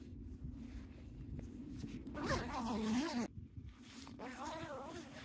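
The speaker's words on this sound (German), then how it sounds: "Auch hier habt ihr wieder einen 2-Wege-Reißverschluss, natürlich von YKK." A YKK two-way zipper on a Robens Couloir 350 sleeping bag being pulled open, a close raspy zip lasting about a second, with someone talking around it.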